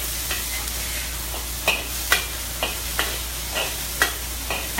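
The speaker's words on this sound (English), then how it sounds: "And bacon on a wok is amazing." Bacon sizzles and crisps in a wok with a steady bright hiss, broken by sharp scraping clacks of stirring about every half second, close and alone.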